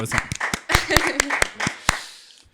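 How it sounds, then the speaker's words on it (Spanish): A few people in a podcast studio clap, giving a dozen or so sharp, separate, close hand claps in an uneven rhythm, with voices talking and reacting between them. "Sí, un aplauso."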